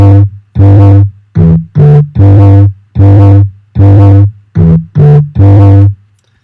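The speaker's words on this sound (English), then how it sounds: "altogether the basses sound like this" Four layered bass sounds from a Logic production session, emphasised low mids, punching out a rhythmic pattern of heavy distorted notes with short gaps between, loud and close with no voices.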